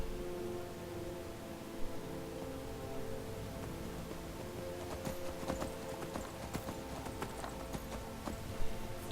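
Horse hooves clip-clopping steadily while riding in the Skyrim video game, a continuous rhythmic patter of hoofbeats over a low ambient game backdrop, with an occasional soft whinny-like sound.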